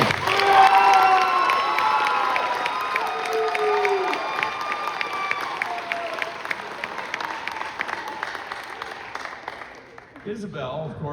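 A crowd claps and cheers loudly at a farewell for graduating seniors, with shouts rising at first, then the applause gradually thins out and fades toward the end.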